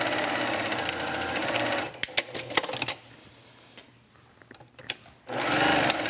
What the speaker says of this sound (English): sew a 1/4 inch seam on parallel sides of each of these lines